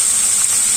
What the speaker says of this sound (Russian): Выкладываем морковь. Перемешиваем, слегка обжариваем.